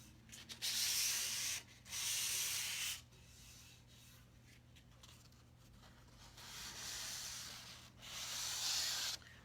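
Sandpaper rubbed by hand over wood, ahead of waxing, in close, scratchy strokes: loud bursts of rasping alternate with quieter passes, over a steady low hum.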